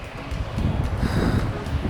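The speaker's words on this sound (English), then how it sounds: "We got a windy day on our hands." Gusty outdoor wind rumbling low and steady against the microphone, with a faint broadband rush and no voices.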